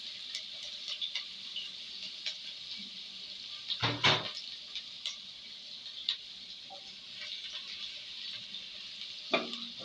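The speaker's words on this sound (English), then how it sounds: "I'll allow the onions to fry for like 30 seconds." Onions frying in a small amount of hot oil while Nigerian fried rice is cooked. A faint, steady sizzle is broken by a few soft knocks and clicks of utensils, with no talking.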